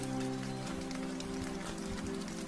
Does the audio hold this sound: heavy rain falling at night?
yes